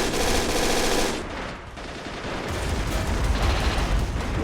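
Machine gun fire from a WWII Men of War: Assault Squad battle near Stalingrad pours out in a loud continuous rattle, dips briefly, then resumes with heavy low booms underneath.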